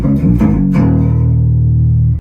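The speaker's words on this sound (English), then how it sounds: "And then I use a polyphonic octave effect, shifted down an octave to just go out to my bass amp." A guitar through a polyphonic octave-down effect plays a few low, deep notes shifted down an octave, ending in one long sustained tone that rings until it cuts off.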